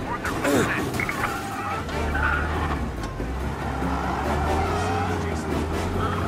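Car engine roaring at speed during a police chase in the Mafia video game, with tyre screeches and passing traffic under a steady low drone; voices speak over the driving.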